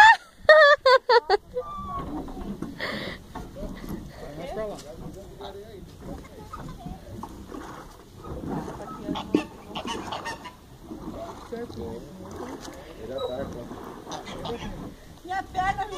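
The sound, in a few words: duck honking near a pedal boat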